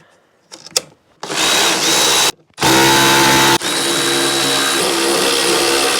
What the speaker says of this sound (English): We can go ahead and put these bolts back in the clutch cover.